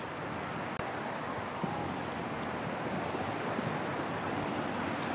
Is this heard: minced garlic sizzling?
no